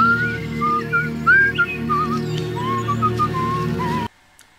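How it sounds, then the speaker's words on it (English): A person whistles a wandering melody from the Stepfather films, heard clearly over a low sustained musical drone before it cuts off abruptly. "the song he whistles in the other movies"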